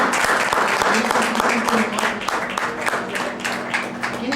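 An audience at a socialist discussion panel applauds the speakers with close, loud clapping in distinct rapid claps, with faint voices mixed in under it.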